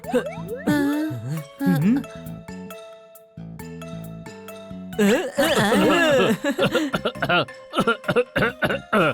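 A cartoon character coughs in rough bursts amid animated voices and a short tinkling jingle, with lively talking and laughter around the coughs, in a Honey Bunny kids' cartoon.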